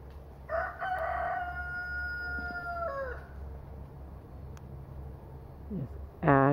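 Chickens on a farm, with a rooster crowing clearly twice, a long nearby cock-a-doodle-doo early and another at the very end, over steady low background hum and faint clucking.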